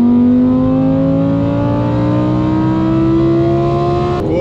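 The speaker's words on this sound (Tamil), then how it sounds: "கோர்ஸாவுடைய சத்தத்தை பார்த்தீங்களா?" A Lamborghini supercar engine in Corsa mode revs hard and loud, holding a sustained, rising drone that climbs in pitch over several seconds before cutting off abruptly at the end, with no talking.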